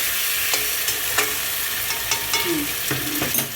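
Chicken pieces sizzling loudly in a pan for homemade pulao, seasoned with salt, green chilli and ginger paste, a steady close frying hiss broken by repeated spatula scrapes and clinks at irregular intervals, with no talking.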